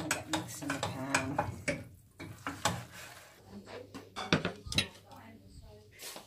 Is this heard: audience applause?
no